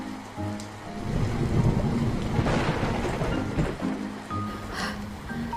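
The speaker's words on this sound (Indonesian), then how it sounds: "Wah, hujan." Steady, heavy rainfall pours down while a deep rumble of thunder rolls through the middle, loud and enveloping, with no voices.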